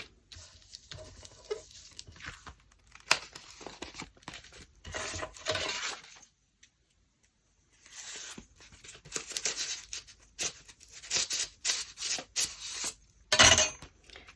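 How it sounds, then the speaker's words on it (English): Scissors snip and paper rustles as paper is trimmed for a junk journal window envelope pocket, irregular close crinkles and cuts with a short silent pause midway. "I'll go trim that first. Just trim that bit off."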